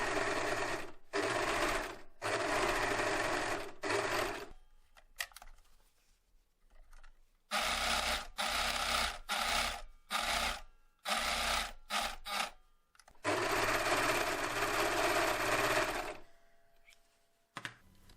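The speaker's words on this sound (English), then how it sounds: "Then I'm using an overlocker to finish the edges of the pockets." An overlocker serger finishes the edges of fabric pockets, running in three long, loud, steady buzzing bursts. Each burst is broken by short stops and near-quiet gaps while the fabric is repositioned.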